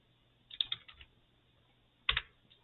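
Typing on a computer keyboard: two short bursts of quick keystroke clicks, close and crisp, separated by a brief quiet pause, with no talking.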